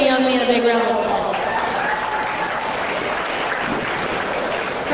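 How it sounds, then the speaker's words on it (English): An audience at a county fair swine show applauds after a brief stretch of speech, the clapping dense and sustained through the rest of the clip with a busy arena background. "Let's give these three young men a big round of applause."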